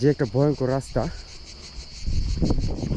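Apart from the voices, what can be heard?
crickets chirping in remote hilly forest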